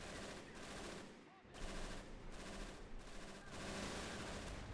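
Machine gun fire in the video game Men of War: Assault Squad 2, with dense, continuous bursts of rapid shots and loud battle noise that pauses briefly before the firing resumes.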